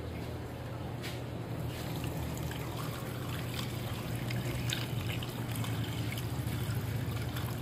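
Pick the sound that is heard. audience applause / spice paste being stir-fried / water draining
water draining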